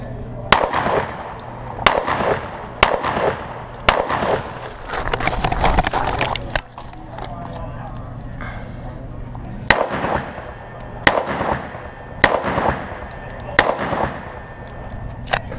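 Sig Sauer 1911 pistol shots ring out at an IDPA shooting competition, sharp loud cracks spaced about a second apart in two strings with a pause between, with a range officer's voice calling commands in between.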